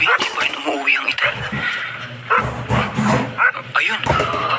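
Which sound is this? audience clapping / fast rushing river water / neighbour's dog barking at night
neighbour's dog barking at night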